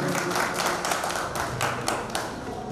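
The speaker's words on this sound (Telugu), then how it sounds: "క్లాప్ అండి, క్లాప్ అండి." Clapping from the audience at a 1981–82 batch school reunion in Madanapalle, a loose, uneven patter of hands with distinct sharp claps standing out, fairly close and steady across the moment.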